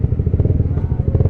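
Honda CBR150R motorcycle fitted with an RX8 aftermarket exhaust, a loud close burbling idle with rapid, even pulses throughout a short burst.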